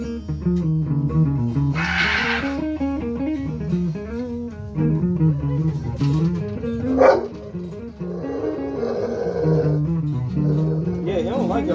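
A dog barks and yips repeatedly in short bursts, close and loud, with some whimpering between, and people talk nearby.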